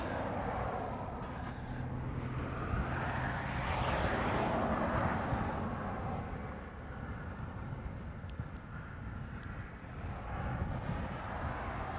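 United airliner taxiing at Honolulu airport, its broad engine rumble and roar steady and fairly loud throughout, swelling slightly near the middle with no talk over it.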